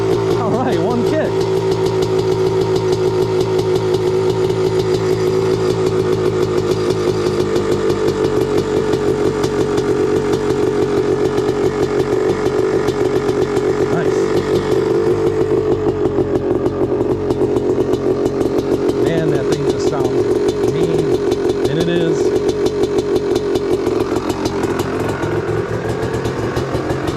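A 1985 Kawasaki Tecate 3 two-stroke engine, suffering from a weak spark, runs loud and steady after a kick start, with a buzzing drone and a few small revs, while people talk over it.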